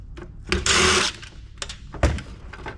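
Screws being removed from an old PC being scrapped, with a short buzzing burst of a power screwdriver amid clicks, knocks and metal handling, close up.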